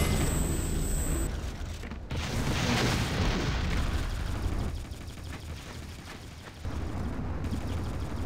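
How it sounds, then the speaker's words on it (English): An enemy generator exploding in the video game Titanfall, heard as a loud, sustained boom and rumble mixed with other battle noise and abrupt game sound cuts. "Enemy generator destroyed!"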